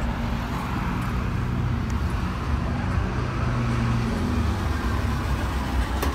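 Steady low rumble of road traffic with a Park and Ride bus on a street in Stratford-upon-Avon, engine drone continuous and fairly close throughout, no talking.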